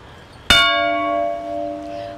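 A peace monument bell in a historic city square in São Paulo is struck once, a sharp metallic clang that rings on with a long, steady, slowly fading tone over faint outdoor background.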